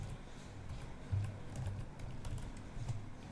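Fast, light clatter of fingers typing a word on a computer keyboard in a Windows search bar, a steady run of close keystrokes with no talking.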